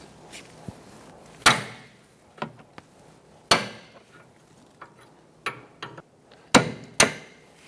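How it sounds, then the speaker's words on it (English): A 24mm wrench cracks loose the jam nut on the steering rack of a 2014-2019 Kia Soul during a bellows replacement, giving several sharp metallic knocks and clanks spaced irregularly, close and fairly loud, with no talking. "we're going to use a 24mm wrench, and we're going to break it free"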